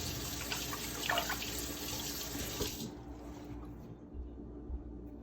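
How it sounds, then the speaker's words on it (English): Water runs from a tap into a can in a steady rushing stream, then the flow changes and softens partway through as the can fills. "So I'm going to fill the rest with water."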